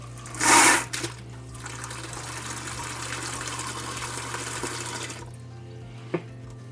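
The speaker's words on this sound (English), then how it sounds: "Time to turn the water back on." A loud burst of rushing water as the supply is turned back on into an iSpring WGB21B whole-house filtration system, then a steady, softer flow that runs for several seconds before cutting off, with a low constant hum underneath.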